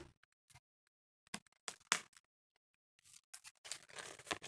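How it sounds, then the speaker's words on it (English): Scissors cutting open plastic packaging around a small fidget toy, heard as sharp, close snips and crinkles in irregular bursts with quiet gaps between, the rustling growing busier toward the end. "So now we have the scissors. Let's cut this open."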